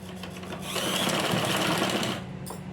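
A sewing machine stitching a blouse lining, a short close burst of fast needle whirring that rises, holds for over a second, then cuts off, followed by a faint click.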